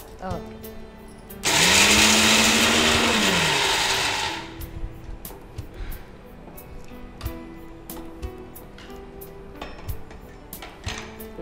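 A mixer grinder coarsely grinding spices, starting with a loud, whining roar that lasts about three seconds and then cuts off. Talk and kitchen clatter carry on afterward.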